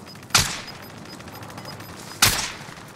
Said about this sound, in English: Everyone's firing at each other.